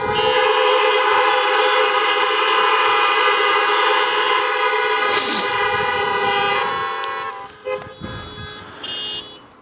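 Loud car horns blare at a Christian church gathering in a long, steady, overlapping drone that holds for several seconds, then breaks into shorter honks as it fades.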